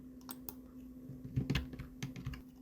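Quiet computer keyboard keystrokes while undoing a step in Excel, a handful of soft, quick clicks in a short irregular burst, close and faint, no speech.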